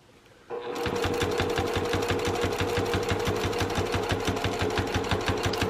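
A sewing machine stitches a seam on a vinyl project bag near a zipper tab, running steadily and loudly with a fast, even needle rhythm after a quiet start, with no talk over it.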